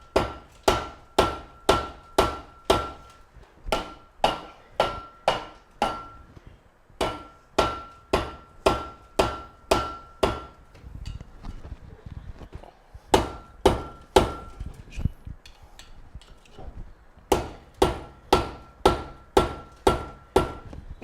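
Sharp metallic hammer blows striking a rear disc brake caliper from a Firebird Trans Am, delivered close up in quick rhythmic bursts of a dozen or so hits, with short pauses between bursts.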